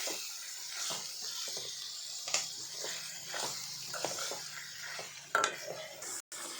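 A spoon stirs a cooked ridge gourd and sesame-powder mixture into hot tempering in a pan, giving repeated scraping strokes and soft sizzling, with a few sharper clinks of metal against the pan.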